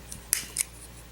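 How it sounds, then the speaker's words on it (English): Scissors give two quick, crisp snips close up, clipping excess wire on a vape coil during an EVOD coil rebuild, in an otherwise quiet setting. "now that gives us room to get the scissors in there and snip off"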